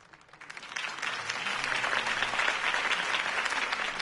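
In a Batman video game, a crowd applauds after Harvey Dent's campaign speech, the clapping swelling up from quiet to a full, steady roar of many hands that holds to the end.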